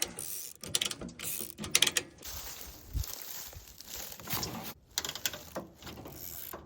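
A rear mechanical winch on an off-road mower clicks and ratchets in uneven bursts while pulling the mower uphill over roots, with creaks and rustling between pulls.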